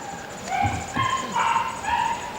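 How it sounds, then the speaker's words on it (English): A dog barks and yips a few times at moderate distance, short rhythmic calls over a quiet background. "You're upsetting the dogs in the neighborhood."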